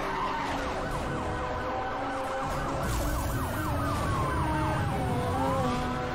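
Wailing police sirens in the racing video game Need for Speed: Hot Pursuit Remastered, several overlapping rapid yelping tones during a chase, steady and loud over a continuous engine roar.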